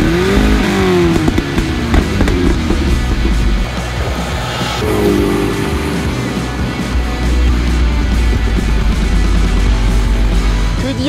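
A 1980s Matra Murena sports car on a test drive, its engine droning loudly and continuously with rising revs, a pitch drop midway as if shifting gear, then pulling again; no one speaks.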